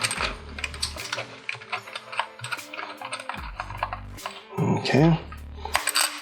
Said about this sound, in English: Okay, so I'll put these big screws in and just get it to hold on.